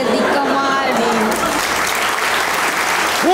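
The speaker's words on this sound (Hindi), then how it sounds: "खूब तालियां होनी चाहिए" A studio audience at a comedy show breaks into loud, sustained applause that fills the room, with a voice faintly audible beneath it.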